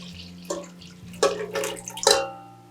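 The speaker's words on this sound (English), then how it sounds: "Now I'm going to add in all the water." Water poured into a stand mixer bowl already holding bread starter, while making German-style white buns; a few short splashing bursts over a steady low hum from the kitchen.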